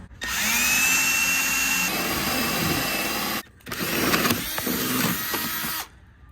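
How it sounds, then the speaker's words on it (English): A power drill whines steadily at close range, pauses briefly, then bores through a storage box panel again with a rougher, grinding tone before cutting off. "I am going to drill a hole through this panel"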